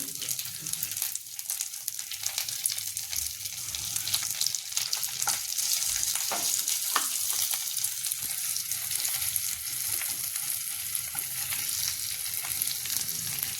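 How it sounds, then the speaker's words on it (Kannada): Garlic and green chillies fry in a pan for a drumstick-leaf and urad dal palya, a dense, steady sizzle close by with some stirring scrapes, and no voices. "ಬೆಳ್ಳುಳ್ಳಿ ಹಾಕ್ಕೊಂಡು ನೋಡಿ ಇದನ್ನು ಚೆನ್ನಾಗಿ ಫ್ರೈ ಮಾಡಬೇಕು ನೋಡಿ"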